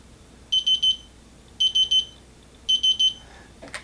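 Digital torque wrench beeping as it nears its set torque limit while tightening screws during a Gideon Judge optic and co-witness iron sight install: three bursts of three quick, bright beeps, evenly spaced, close and clear against a quiet background.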